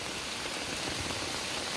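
The flooded Aghanashini river in spate rushes past with a steady, dense roar of broadband water noise, close and continuous, with no voices over it.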